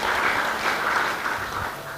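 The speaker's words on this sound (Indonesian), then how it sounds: "tepuk tangan yang paling meriah" A church congregation gives a lively round of applause during a sermon, a short burst of dense, even clapping from many hands filling the room, with no speech over it.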